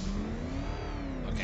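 A vehicle engine revs in Batman: Arkham Knight, a steady loud whirring drone with a slowly rising then falling pitch, alone without talk.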